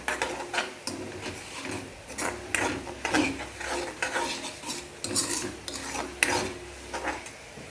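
A spoon scrapes and stirs through okra coated with chili powder and garam masala in a pan, a steady rasping, clinking rhythm close up with no talking.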